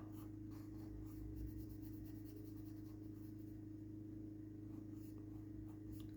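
Pen or marker scratching steadily across paper while a caricature is sketched, a faint continuous rubbing texture over a low steady hum, with no talking.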